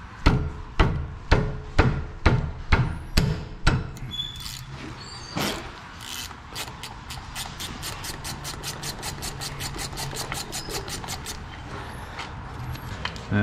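A gear wrench on rear differential bolts makes a burst of sharp metallic clicks and knocks. After a brief pause, a long run of fast, even ratcheting clicks follows, close and clear, with a low engine-like hum underneath.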